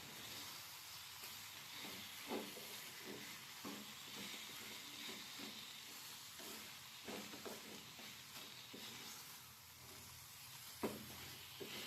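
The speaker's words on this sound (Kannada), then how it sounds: "ಸೊ ಇಷ್ಟನ್ನು ನೀಟಾಗಿ ಫ್ರೈ ಮಾಡ್ಕೊಳ್ಳಿ, ಡ್ರೈ ಆಗಿ ಫಸ್ಟು." Sambar powder and extra masala dry-frying in a pan for an erekaayi (ridge gourd) palya, a steady low hiss with soft intermittent scrapes of stirring, close and moderately quiet, no voices.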